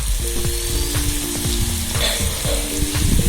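Ginger garlic paste sizzles hard in a pan for a potato and capsicum dish, a loud close crackle broken by repeated scraping stirs of a spoon against the pan.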